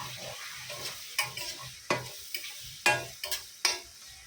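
Onions and tomatoes sizzle steadily in a pan for a Mughlai chicken dish while a utensil scrapes and stirs in several quick, distinct strokes, close and fairly quiet.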